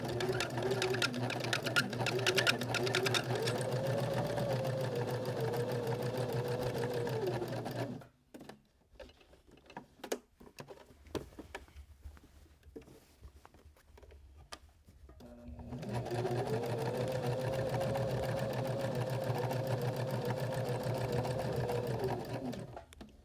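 Sewing machine stitching an upcycled shirt in red thread, running in two long steady bursts with a pause between where it stops at a corner with the needle down.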